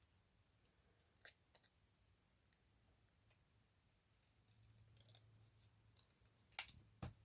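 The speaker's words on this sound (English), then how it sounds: "Cutting straight lines with scissors is not my strongest point." Scissors trim a paper page tab with quiet, scattered snips and clicks, getting louder and closer together toward the end with a few sharp cuts.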